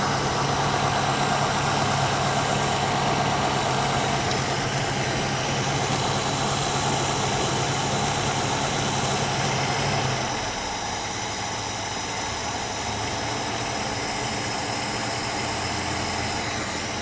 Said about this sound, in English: So I'm just going to back off the idle speed.